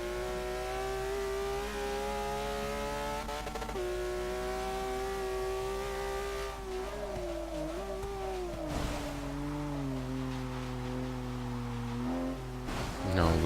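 A race car lapping a track in Forza 6, its engine whining steadily with pitch rising and falling through gear changes and corners, a few brief sharp bursts, fairly quiet overall.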